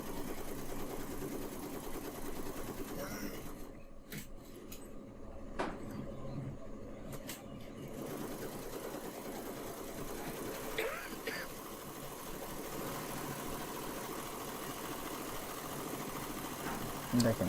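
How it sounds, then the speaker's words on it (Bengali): A Chinese embroidery machine stitches a flower design, a steady mechanical hum with fine rapid needle pulsing that runs throughout, heard under someone talking. "দেখেন কীভাবে আসলে একটি এমব্রয়ডারি মেশিন দিয়ে মানে ফুল ওঠানো হচ্ছে।"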